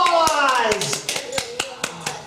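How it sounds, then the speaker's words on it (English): Sparse, sharp claps from a small audience at a children's fall science program follow a moment of speech, coming as scattered individual hand strikes rather than a full round of applause. "let's give the junior scientists a big round of applause"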